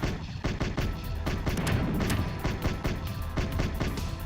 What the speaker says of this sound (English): These guys do occasionally launch missiles out.